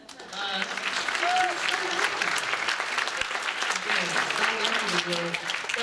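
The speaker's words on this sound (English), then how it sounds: "You gotta clap it up." Steady applause from a school audience at a writers' week event, with voices talking over the clapping throughout.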